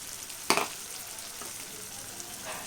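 Tomato pieces cooking in a pan for cauliflower fry, a steady close sizzle with one sharp clack of a utensil early on and a few softer taps.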